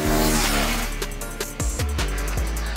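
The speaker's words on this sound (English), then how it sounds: "there's more of a snarling intake sound. It sounds a little more hollow, a little deeper" A 2024 KTM 390 Duke engine revs with a throaty, hollow snarl from the intake, rising then dropping through quick throttle blips, loud and close.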